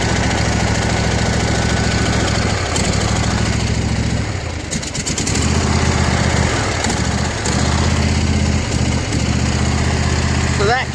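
A small engine runs loud and steady nearby with a rough throbbing note, dips briefly twice and then keeps running, and no clear shutdown is heard before the end.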